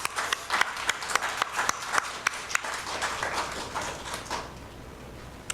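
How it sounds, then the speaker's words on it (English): Congregation at a Unitarian Universalist service clapping in thanks for the board, a dense patter of hands that carries on steadily, then gradually thins and fades toward the end. "Thank you, board. Let's clap."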